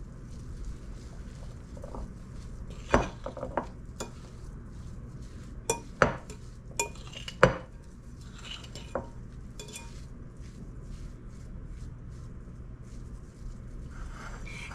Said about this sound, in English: And I'm going to stir it in.